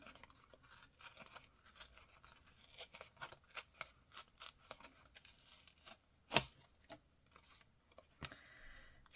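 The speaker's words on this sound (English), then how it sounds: "What if I tear this here?" Paper is torn and trimmed for a travel journal card made from crumpled receipts. The sound is a series of quiet, close rips and snips with irregular pauses, plus one louder sharp tear near the end.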